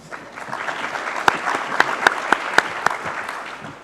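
A forum audience claps for a speaker taking the stage at a regulatory conference session, steady moderate applause with a few sharp nearby claps standing out, lasting several seconds.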